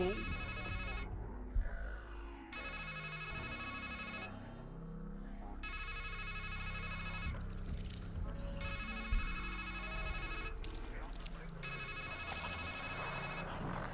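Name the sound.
phone ringtone going off in the Strangeland video game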